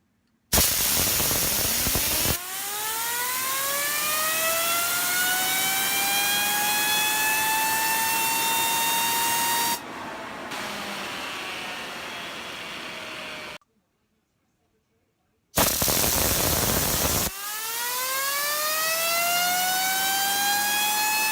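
A DNA X fidget spinner by Spinetic whirs alone at close range, its rising whine steadying into a long sustained hum over several spins with a brief silent gap between them.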